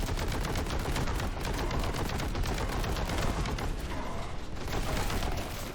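Repeated shotgun blasts from enemies in the Warhammer 40k Boltgun video game, dense rapid game gunfire with mechanical clatter, loud and continuous throughout.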